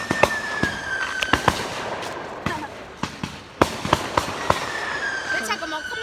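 Huge fireworks crackle and bang outdoors in a rapid series of sharp, loud pops and bursts with a steady tone running beneath, and people talk nearby.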